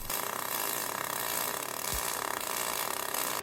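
An Everlast 253DPI MIG welder running on aluminum with settings too cold, producing a dense, steady buzzing crackle that holds continuously at close range without pauses.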